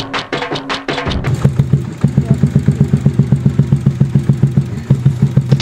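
A motorcycle engine idles close by with a steady, thumping putter, after a few sharp clatters and a rev at the start, before a ride up the Kolli Hills hairpin road.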